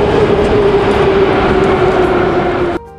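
Moscow metro train running underground, a loud steady rumble with a high whining tone and rail clatter close by, fading abruptly near the end.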